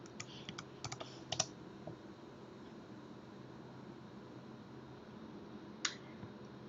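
A password is typed on a computer keyboard: a quick burst of faint clicking keystrokes, then a long quiet pause and one last key press.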